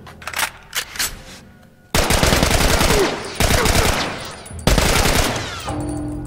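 Gunfire in The Last of Us Remastered, a few separate shots followed by long, loud bursts of rapid automatic fire with brief pauses between volleys.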